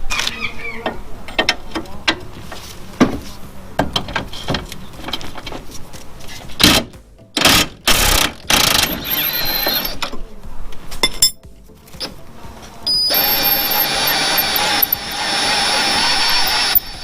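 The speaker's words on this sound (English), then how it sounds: "Last thing to do is remove this shock bolt." Power tool whirs and mechanical clatter come from removing a shock bolt on a Mazda MX5 during a coilover install, in bursts of loud ratcheting and impact-driver runs with brief pauses between them.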